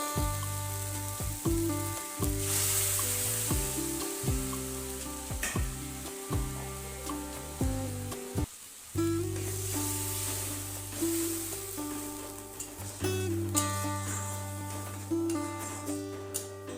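Tomato paste sizzles and fries in hot oil for a fish curry, a constant crackling sizzle with repeated stirring scrapes and clunks of a utensil against the pan throughout.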